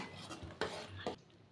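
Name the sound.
stirring jaggery syrup with cardamom for peanut chikki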